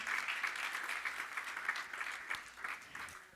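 A church congregation claps in worship, a faint, dense patter of many hands heard from a distance, steady for a few seconds.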